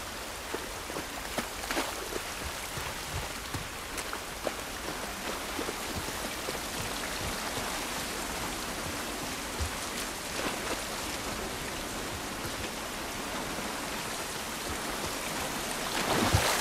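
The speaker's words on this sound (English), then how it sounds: "It's raining, can't do us any good." Steady rain in The Last of Us Part 1 hisses continuously outdoors, a dense even wash of drops on surfaces with no voices over it.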